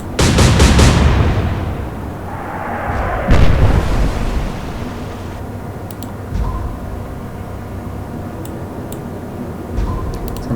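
A naval broadside in the Atlantic Fleet video game opens with a heavy cannon boom, a second loud blast follows a few seconds later, and fainter ticking and rumbling carry on after, with no voices.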